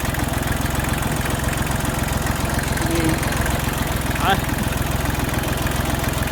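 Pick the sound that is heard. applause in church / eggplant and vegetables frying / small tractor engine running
small tractor engine running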